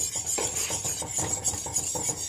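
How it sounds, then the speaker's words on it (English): A whisk working through broth sauce in a pot for a meatless pot pie, with steady rhythmic scraping and swishing strokes at a moderate pace, close and continuous, with no talk. "keep whisking this and stirring it around, and it will thicken and start to get clearer"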